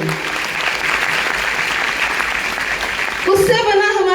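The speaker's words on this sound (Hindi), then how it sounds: "गेनेटोन के लिए जोरदार ताली होना चाहिए" Loud, steady applause from an audience at a motivational speech for a DXN product event, sustained for several seconds without a break, with a brief voice rising over the clapping near the end.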